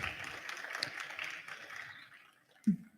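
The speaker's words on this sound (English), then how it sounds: "A round of applause for her, please." Faint, distant audience applause at a nature and environment forum's award ceremony, a soft even patter that thins out, with a brief low knock near the end.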